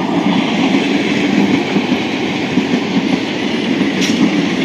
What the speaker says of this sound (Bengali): এই চলে গেলো একটা কাটোয়া